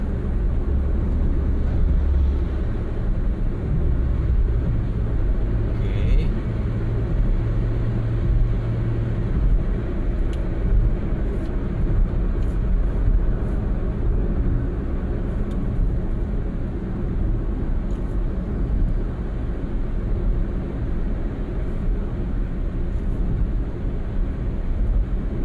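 A 2014 Honda Brio E 1.2 L automatic cruises on a road, heard from inside as a steady, continuous low engine and tire drone with constant road rumble and no talk.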